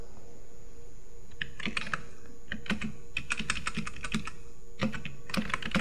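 Someone types on a computer keyboard, entering a new project name in Adobe Premiere Pro CC 2017, in close, crisp bursts of key clicks with brief pauses between.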